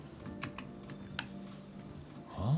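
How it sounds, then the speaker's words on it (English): Keys clatter on a computer keyboard in a quick, uneven flurry of close taps, with a faint low hum beneath and a brief muffled rustle at the end. "Oh, that keyboard is weird."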